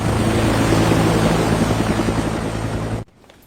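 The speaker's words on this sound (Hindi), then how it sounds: "मैडम, हेलीकॉप्टर उड़ान भरने ही वाला है।" Helicopter preparing to take off, its rotor and engine giving a loud, steady broadband roar with a low thrumming pulse that cuts off abruptly near the end, leaving near silence.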